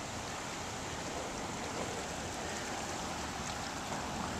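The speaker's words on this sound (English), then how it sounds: "this is a very swollen brook" A swollen brook running high after a nor'easter storm, rushing water producing a steady broadband roar, close and continuous without pause.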